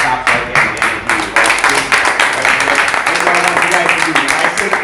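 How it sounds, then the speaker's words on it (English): A group of people claps hands together in a steady, energetic rhythm, loud and sustained throughout, with voices and crowd noise mixed in underneath. "let's begin by just giving some claps right there"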